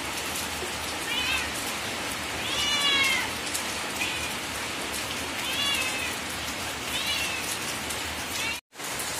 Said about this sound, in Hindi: अभी भी गाइस बाहर बारिश हो रही है